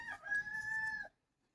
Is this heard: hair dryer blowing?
no